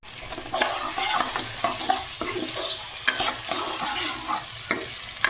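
A spice paste for fish curry, loosened with small splashes of water, sizzles in a pan while a spatula scrapes and stirs it in uneven bursts, close and moderately loud with no speech.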